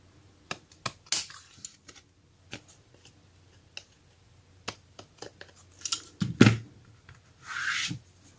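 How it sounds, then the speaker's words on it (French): Scissors trimming the overhanging edges off a glued paper card, a string of short sparse snips and rustles, close and fairly quiet, ending with a longer rubbing burst. "je vais redécouper ce qui dépasse en haut et en bas"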